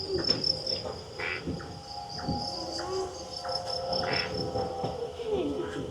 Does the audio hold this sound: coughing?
no